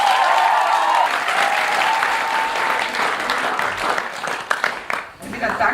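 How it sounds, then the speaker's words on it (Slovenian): Sustained audience applause at a centenary celebration of a Slovenian cultural society's theatre production, dense and fairly loud throughout, with a voice talking over the start and scattered claps thinning toward the end. "prosim, krepkejši aplavz in aplavz"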